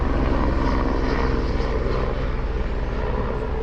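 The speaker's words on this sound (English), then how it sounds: "Let me let this Huey helicopter get by." A Huey helicopter passes overhead, its loud, steady rotor and engine roar filling the air throughout and fading slightly toward the end.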